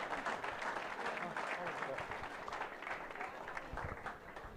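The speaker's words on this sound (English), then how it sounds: "Let's give a warm round of applause and congratulations, Tan." An audience at an annual awards ceremony gives faint, continuous applause for an award winner. The steady wash of clapping stays at an even level, with voices mixed in beneath it.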